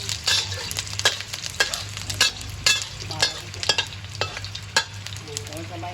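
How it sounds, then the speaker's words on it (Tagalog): Garlic sautéing in a hot pan until brown for a Filipino fish-with-tomato dish, a steady close sizzle with regular sharp scrapes of a spoon or spatula stirring against the pan. "Lalagay natin yung ating bawang. Ayan. Gigisa lang natin ang bagya para mag-brown."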